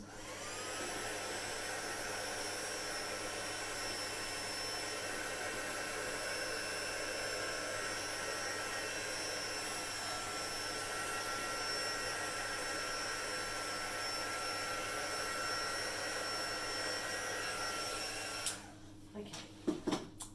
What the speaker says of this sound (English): The heat gun is coming on again.